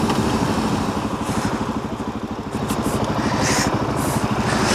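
A 2015 Suzuki DRZ400SM single-cylinder motorcycle is out on a ride, its engine thumping in a steady rapid pulse at a constant pace, loud and close, with wind rush over it.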